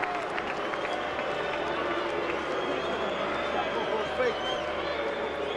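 Dense, steady crowd noise fills a boxing arena during the Klitschko versus McCline WBO fight, a sustained loud roar of booing and jeering that never lets up, with a brief swell near the end.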